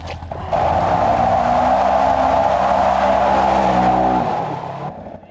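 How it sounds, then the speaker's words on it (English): An off-road vehicle churns through real thick Alaskan mud, its engine roaring loud and strained at a steady high pitch for several seconds before the revs drop away. "Riding in this mud, this real thick mud, is so much different than the dry rocks and deserts we're used to."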